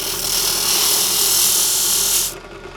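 Tool cutting a V into a foam tire insert, a loud close continuous rasping hiss lasting about two seconds before it drops away abruptly.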